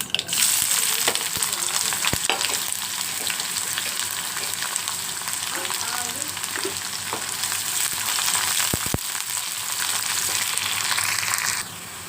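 Onion and garlic frying in hot oil for radish greens fry, a loud continuous crackling sizzle held close for most of the stretch, with a few sharp clicks from the pan, then cutting off abruptly near the end.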